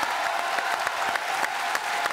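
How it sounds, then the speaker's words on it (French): Studio audience applause on a French TV variety show, a steady dense wash of clapping with a few sharper claps standing out, loud and continuous throughout. "Applaudissements,"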